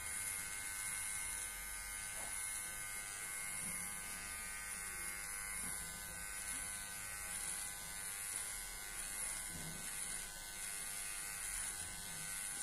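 A steady electric razor buzzes continuously as a quadriplegic man's beard is shaved with an adapted setup, close and unbroken throughout.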